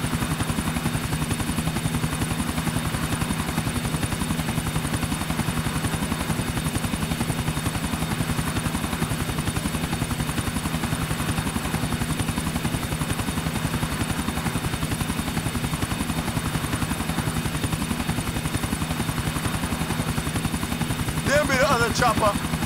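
A helicopter flies in the video game GTA IV, its rotor chopping in a steady, fast rhythm at close range throughout, with a brief sharp burst near the end.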